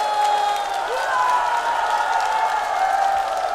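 Continuous applause and cheering rise from a singing-class audience for a trot singer, an even, dense roar of clapping and crowd voices that holds steady throughout.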